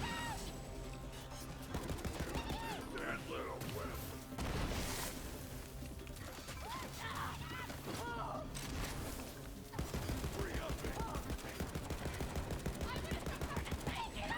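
Rapid bursts of gunfire from a weak gun in the shooter Borderlands 3, dense and continuous with heavy sharp reports, booms and crashes layered over game music and someone talking throughout.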